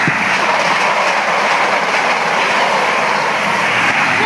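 Class 43 high-speed train passing Retford station in Nottinghamshire, a loud, close, steady rush and rumble of wheels and engine filling the whole stretch.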